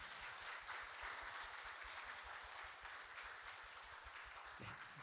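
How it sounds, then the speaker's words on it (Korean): A church congregation claps together in blessing during a Sunday worship service for a couple announced as getting married, a dense, steady roar of many hands that fills the room for several seconds without talk. "우리 축복의 박수 한번 부탁드리겠습니다"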